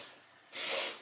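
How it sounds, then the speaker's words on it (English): A single short nasal sniff of breath drawn in during a calm yoga breathing exercise, close and soft, rising after a quiet hiss. "And start taking breaths in sniffs."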